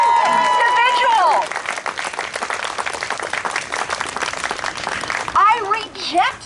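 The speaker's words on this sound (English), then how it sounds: "let's give them a round of applause" An outdoor crowd at an anniversary gathering in Wardlow Park, Long Beach, breaks into steady applause and clapping that lasts several seconds, with voices and cheers mixed in at the start and end.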